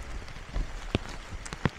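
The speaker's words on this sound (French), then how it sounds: "Même s'il pleut" Rain in the Belgian Ardennes during a van road trip, light scattered drops tapping on a surface, with a few sharper close hits standing out from a soft background patter.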